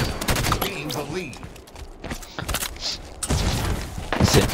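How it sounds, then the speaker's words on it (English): Bursts of rapid gunfire in a shooter video game, sharp repeated shots in quick clusters with a voice speaking between them. "Whoa, Sage, you shot me"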